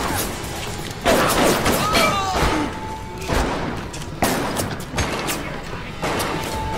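Weapon fire in BioShock Remastered, several heavy shots spaced about a second apart, each a loud thump followed by mechanical clatter and lingering reverberant tail, with faint tonal game sounds between bursts.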